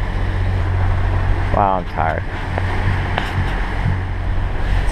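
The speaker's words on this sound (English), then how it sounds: "we're just surfing down these massive waves with the jib sail out and the port engine" Large ocean waves surge beneath a sailboat running with its jib out and port engine on at night, a steady roaring wash and wind rumble, with a person speaking briefly over it.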